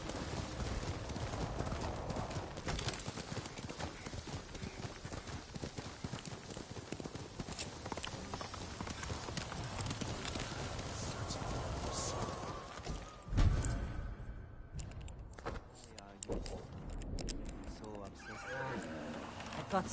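Horse in the Ghost of Tsushima video game, galloping hooves beating in a fast steady rhythm with a neigh, under game music and talk, ending with a sharp thump and quieter movement.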